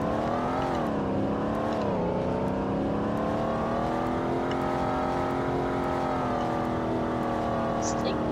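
A car engine in the video game Roblox Greenville revs steadily with rising and falling pitch, a continuous droning whine that climbs and dips, loud and close throughout.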